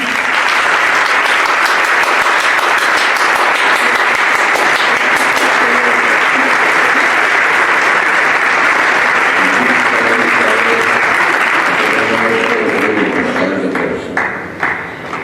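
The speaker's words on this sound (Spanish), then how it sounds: "así que otro fuerte aplauso para él" An audience at a civic medal ceremony in Jaén applauds a man turning 100. The clapping is loud, dense and sustained, then thins toward the end, with a few voices audible over it.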